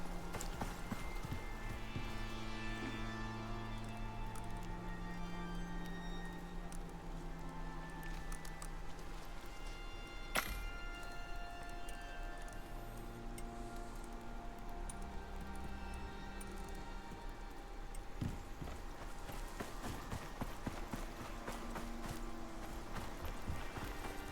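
Horse hooves clip-clop steadily in the Icarus open-world survival game, a continuous walking patter with game music tones running underneath and no talking.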